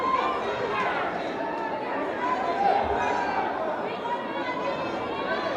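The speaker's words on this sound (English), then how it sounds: "The crowd loving it." A high school boys' basketball game crowd chattering and cheering in a gym, a steady loud wash of many voices throughout.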